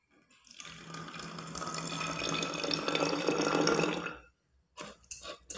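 Water runs steadily from a tap into a spray bottle for about four seconds, a hissing, splashing stream that starts suddenly and stops abruptly, followed by brief faint handling sounds.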